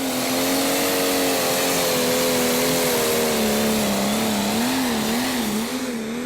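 Valtra-based prostock pulling tractor at a tractor pull in Brande, Denmark, its engine droning loud and steady under load with a wavering pitch that dips and rises near the end of the pull.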